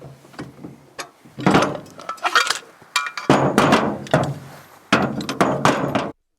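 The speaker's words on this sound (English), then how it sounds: "I'm going to take and pull this pump completely apart so you can see all the guts inside of it." A hand-operated well pump is taken apart by hand, with irregular metallic clinks, knocks and wooden thuds at close range, some louder clanks standing out between quieter fiddling.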